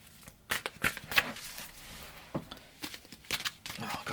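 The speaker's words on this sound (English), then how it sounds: "Let's shuffle them here." A deck of tarot cards being shuffled by hand makes quiet papery riffles and soft slaps in irregular bursts, close by and with no voices.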